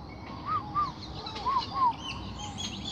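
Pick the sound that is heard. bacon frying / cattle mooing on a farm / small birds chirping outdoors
small birds chirping outdoors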